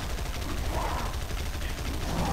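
Rapid video game gunfire in a steady, dense stream of shots, moderately loud with little variation throughout.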